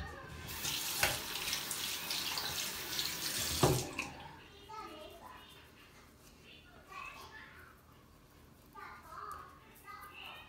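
Tap water runs steadily into a sink for rinsing off an intense facial mask, loud and broadband for about four seconds, then cuts off, leaving quieter splashing and dripping sounds afterward.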